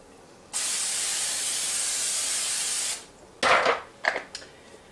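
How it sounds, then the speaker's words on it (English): A steady spray of cooking spray onto a half sheet baking pan hisses for about two and a half seconds, followed by a few short clattering knocks of the pan being handled. "Now I'm going to spray my half sheet pan."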